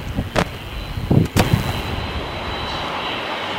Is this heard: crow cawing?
no